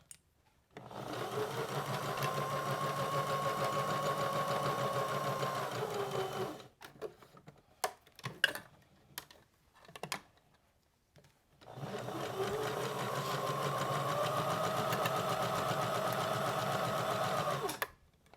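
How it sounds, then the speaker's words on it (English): A sewing machine stitches a fabric card deck holder in two long, even bursts. Between them is a quiet pause filled with small clicks and handling noises as the fabric is lifted and turned. "turn it back, stitch one more stitch, that usually does it, and then lift and turn again"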